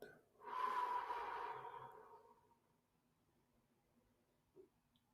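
A person takes one slow breath in, holds it, and lets it out, a soft airy rush that fades into near silence, then a faint brief exhale at the end.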